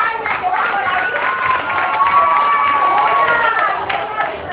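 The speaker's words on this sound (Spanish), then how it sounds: "Un aplauso para él." A crowd at a school carnival in Baitoa cheers and claps as costumed children parade past, with children shouting amid a continuous lively roar of voices.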